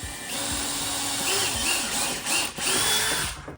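A power drill whirs as it bores screw holes into a door, running steadily close up and rising and dipping in pitch with a few short bursts of varying speed.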